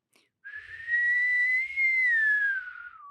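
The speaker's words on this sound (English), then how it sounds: "as well as if I whistle." A single clear, sustained whistle near a hydrophone, held for about two and a half seconds, gently rising then falling in pitch, alone with no talking.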